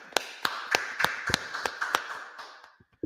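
Hand claps, about eight sharp, evenly spaced slaps in a steady rhythm, close and clear, slowing and fading out at the end.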